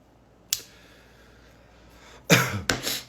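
A few short coughs from someone with sinusitis, one near the start and a pair of harsher ones toward the end, close to the mic in an otherwise quiet space.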